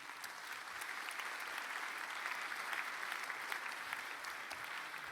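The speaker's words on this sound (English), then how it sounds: "Can I give her a round of applause and thank her for coming," An audience at a museum conference panel in Milan gives a steady round of applause for a guest, a dense, even patter of many hands throughout.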